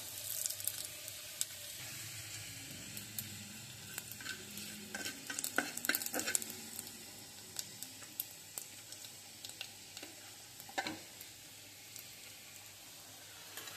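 Cumin, bay leaf and dried chilli tempering in hot oil in a pan, giving a quiet steady sizzle broken by scattered sharp clicks and scraping stirs, with no talk.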